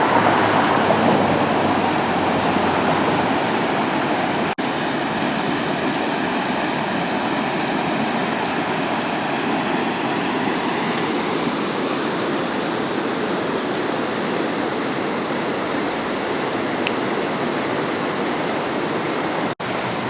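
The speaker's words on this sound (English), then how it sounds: "White Oak Creek is running pretty fast today after all that rain last night." Fast, swollen White Oak Creek after heavy overnight rain, a steady broadband rush of churning water filling the scene, loud and continuous throughout with no voices.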